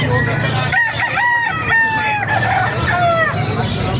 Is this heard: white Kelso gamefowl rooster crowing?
yes